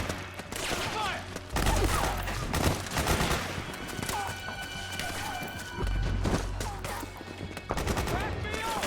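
Heavy gunfire in Metal Gear Solid 4, bursts of rapid automatic fire and scattered shots in a busy battle with shouting voices throughout.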